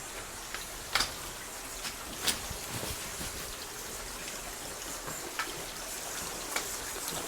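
Water drips and trickles down from above inside a cave, making a faint, continuous watery patter with scattered sharper drops landing every second or so.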